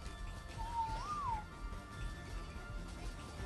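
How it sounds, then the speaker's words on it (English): A single sliding whistle in the Ark Survival Evolved video game, Aberration map, gives a neutral command to tamed creatures; it rises and falls once, clear but short, over a steady low game-world rumble. "We're gonna whistle neutral here."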